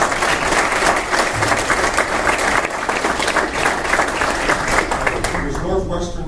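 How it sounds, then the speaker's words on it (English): Luncheon audience at a Chicagoland basketball kickoff event breaks into sustained, dense clapping that fills the room, steady and loud, easing slightly near the end. "Is Northwestern clapping over?"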